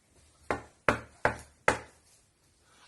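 Four sharp knocks on a door, close and crisp, the first three evenly spaced and the fourth after a short pause, each ringing briefly before silence.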